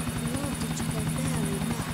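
A police helicopter in GTA IV drones steadily with a loud, continuous rotor buzz and pulsing chop, constant throughout and loud enough to fill the scene, with game sounds mixed beneath it.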